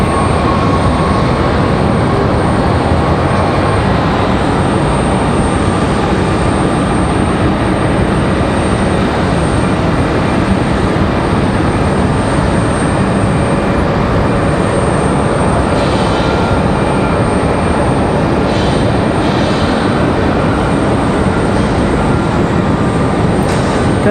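Airbus A321 jet airliner taxiing out toward the end of the runway at Raleigh-Durham International Airport, a steady, loud broadband engine roar that holds evenly throughout with no voices.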